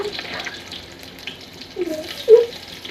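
Garlic hits hot oil already holding cumin and mustard seeds, giving a soft steady sizzle that flares into two short, louder spits near the end, with no voices.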